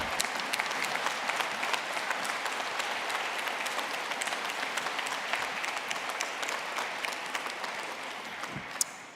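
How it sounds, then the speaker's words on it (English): Sustained applause from a large audience at a university commencement ceremony, a dense steady patter of clapping that continues without pause and fades slightly at the end. "Let's stand up and give Student Government President a round of applause."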